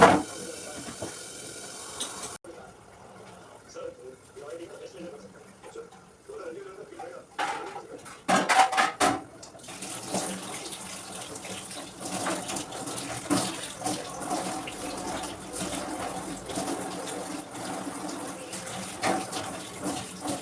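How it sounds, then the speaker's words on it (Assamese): A tap runs as a spice container is scrubbed and washed at a kitchen sink. After a quiet start with a voice talking, a few sharp clatters come before a steady hiss of water that lasts to the end. "মই মছলা থোৱা ৰেগটো মাজি আছোঁ"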